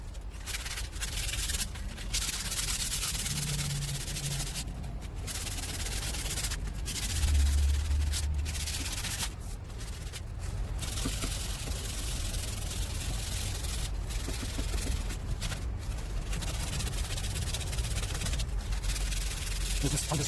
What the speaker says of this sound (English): I'm just shredding the sandpaper because I pressed it so hard.